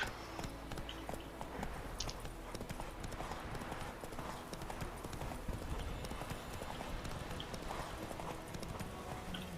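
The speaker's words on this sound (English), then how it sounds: "Whoa there, Roach" Horse hooves galloping in The Witcher 3, a steady, fast clip-clop of hoofbeats heard close and continuous throughout, mixed with game ambience and no talking.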